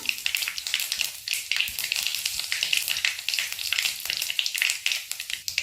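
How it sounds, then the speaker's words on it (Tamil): Mustard seeds and fennel sputter in hot oil for a broccoli kurma, dense crackling pops in uneven bursts over a hissing sizzle, close and fairly loud, with no talking. "கடுகு, சோம்பு கொஞ்சோண்டு போட்டுக்கலாம்."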